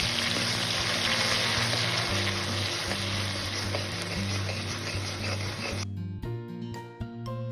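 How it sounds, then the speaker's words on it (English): Cumin seeds and green paste frying in hot oil in a kadhai give a loud, steady sizzle that fills the first six seconds, then cuts off abruptly, leaving softer stirring and low background sounds. "In a kadhai, add oil, let it get hot, add the jeera and the green paste that we have prepared earlier and let it cook for about 5 minutes"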